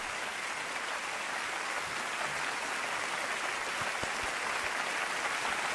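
Cult followers in an anime episode clap together, a dense continuous patter of many hands held at an even level throughout, with no talk.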